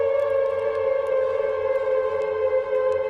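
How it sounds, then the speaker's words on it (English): A siren holds a steady, droning wail at constant pitch, loud and unbroken throughout with no voices. "Get the sirens out."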